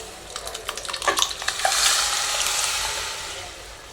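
Tomato and lentils tipped into frying onions for onion sambar: a few quick clinks and stirring scrapes lead into a loud, close sizzle that swells and then settles into steady frying.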